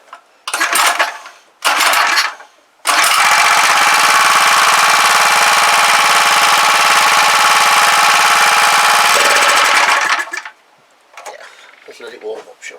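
Clarke pressure washer petrol engine, a scrap unit started on choke, runs loud and steady for about seven seconds after a few short bursts, then cuts off, with brief talk at the start and end.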